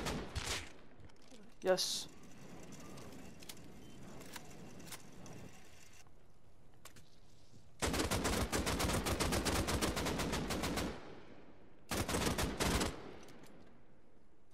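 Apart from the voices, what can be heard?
gunfire in a video game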